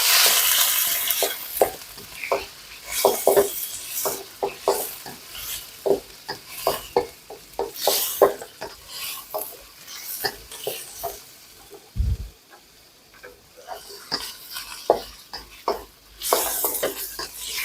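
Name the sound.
frying and stirring shrimp, chicken and squid in wok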